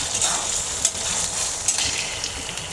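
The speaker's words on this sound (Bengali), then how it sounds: "আমি এখন এটাকে ভালো করে কষাই নেব, নিয়ে তারপর শুটকিটা একটু ভুনা করে নেব" Dried fish (shutki) with garlic paste fries and is stirred in a hot pan, a loud close sizzle with a couple of sharp utensil scrapes, no talking.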